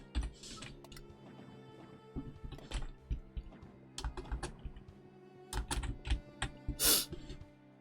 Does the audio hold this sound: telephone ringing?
no